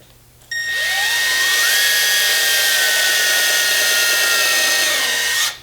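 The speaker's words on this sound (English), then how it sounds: "All I am doing is drilling through the rigging board till it hits the hull and then I stop." A power drill bores through a wooden rigging board toward a boat hull, running at a steady high-pitched whine for about five seconds after a brief start, close and loud, then spinning down abruptly.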